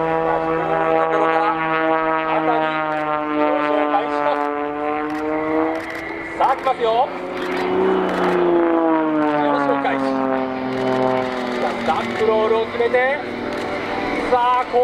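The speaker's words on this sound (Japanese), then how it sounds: "飛行機を空中でヘリコプターのようにホバリングさせています" A propeller aerobatic airplane hovers nose-up at an air show at the Tone Sky Festival 2010. The engine drone swells and sags in pitch while a loud commentator talks over it.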